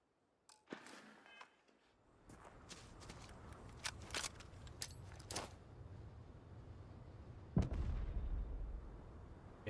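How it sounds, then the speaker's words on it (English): A firework grenade goes off in the video game Starfield: a quiet start, then a scatter of sharp crackling pops and bangs, with a heavier burst near the end over a low rumbling background. "We got a firework grenade."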